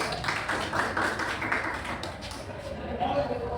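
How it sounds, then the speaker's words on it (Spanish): Students in a 10th-grade class clap together after a classmate's answer, a dense, even patter of many hands lasting a few seconds, with voices talking over it. "Bien, aplauso."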